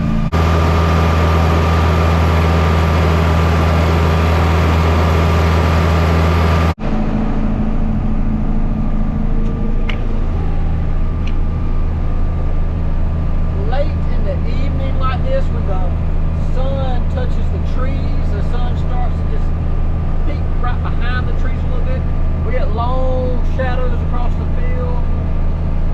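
Tractor in first gear pulling a peanut picker across a field, a loud steady engine drone that shifts tone partway through, with someone talking over it for much of the time.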